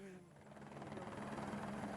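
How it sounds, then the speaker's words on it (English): A search-and-rescue helicopter arriving, its rotor pulsing as a steady rhythmic thrum that builds slightly, heard with a faint voice in the background. "Our final chopper, Air 8, has just come in with our last subjects"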